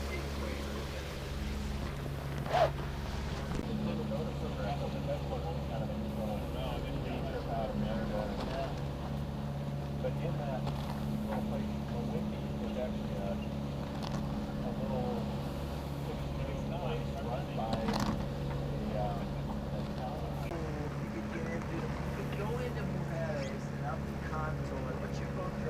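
A sailboat motoring under engine on a Caribbean ocean passage: a steady low engine drone runs throughout, with water and wind noise around it and occasional voices in the background.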